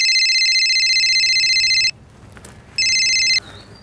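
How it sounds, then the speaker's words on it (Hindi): A telephone rings loudly and close, a long electronic trill that stops, then returns for one shorter burst after a pause, with no talking. "फोन किया था उसने मिलिंद को।"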